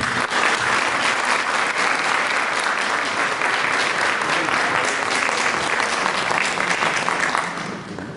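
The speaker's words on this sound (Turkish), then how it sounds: "alkışlarımız" A full hall applauds steadily at a classical Turkish music concert of Muallim İsmail Hakkı Bey works, the loud, even clapping sustained throughout before easing slightly at the very end.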